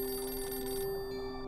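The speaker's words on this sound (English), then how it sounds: "when the phone rang." Telephone bell ringing in a steady sustained trill that cuts off partway through, faint room noise beneath.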